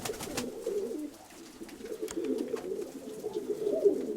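Pigeons taken in for temporary keeping coo steadily in a low, continuous murmur, several birds overlapping at close range with no pause.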